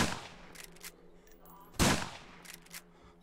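Gunfire from a zombie survival video game: a few sharp single shots, with one loud blast near the middle and fainter reports around it, quick and close.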